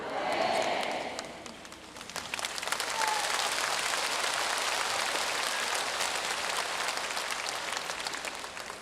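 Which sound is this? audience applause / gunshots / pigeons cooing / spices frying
audience applause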